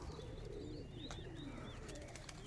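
Pigeons cooing in a loft, soft low coos over faint background noise with a few higher chirps, fairly quiet and continuous.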